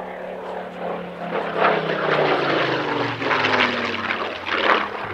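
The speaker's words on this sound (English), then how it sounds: "both aircraft performed solo displays in turn" Propeller aircraft performing solo display passes at the RAF Cosford Air Show, a loud droning engine with a falling pitch as it sweeps past, sustained throughout.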